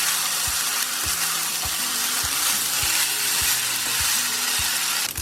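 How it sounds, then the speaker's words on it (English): Vegetable fried rice being tossed with soy sauce in a hot pan, a dense, loud, steady sizzle with regular soft knocks as the pan is moved, close and without talking. "I'm going to add my soy sauce. Toss that through nicely."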